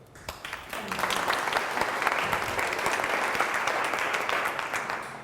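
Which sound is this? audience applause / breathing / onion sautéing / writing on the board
audience applause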